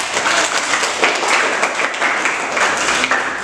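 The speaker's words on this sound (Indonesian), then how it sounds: "tepuk tangan anak-anak untuk Evi" Schoolchildren clapping together for a classmate named Evi during a science lesson, a brisk, loud and fairly uniform patter of many small hands close by, keeping up a lively pace for a few seconds.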